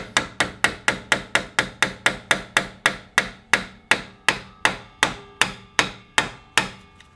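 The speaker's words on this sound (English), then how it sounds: "And then I just like to gently tap it in." Steady hammer taps drive the axle into the hub of a 2000 Yamaha G16 gas golf cart, about twenty sharp metallic strikes in an even rhythm, each ringing briefly, close and alone.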